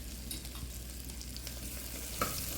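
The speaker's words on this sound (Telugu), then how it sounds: "ఇలా ఉల్లిపాయలు పచ్చిమిరపకాయలు కొంచెం వేగిన తర్వాత జింజర్ గార్లిక్ పేస్ట్ వేస్తున్నాను" Ginger garlic paste frying with onions and green chillies in a pan for basmati kichidi, a faint, steady sizzle with a brief clink near the end.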